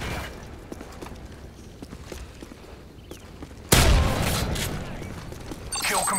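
Airstrike explosions from a bombing run in Call of Duty: Modern Warfare 3, with a sudden loud boom midway that rolls into a sustained rumble after a stretch of quieter gunfire and movement.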